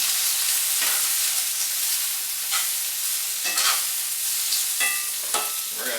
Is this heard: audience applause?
no